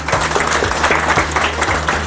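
An audience at a celebration of a student's NEET exam success breaks into loud, dense clapping that continues steadily throughout, close and without talk.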